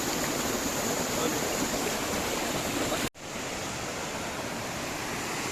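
A river swollen with floodwater after overnight rain roars steadily in a dense, unbroken wash, cut by a brief dropout partway through.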